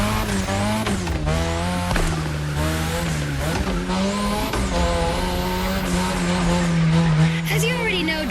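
Car drifting around the drift track in The Crew Motorfest racing game, a steady loud engine drone with rising and falling revs and intermittent tire squeal, under a continuous voice speaking over it.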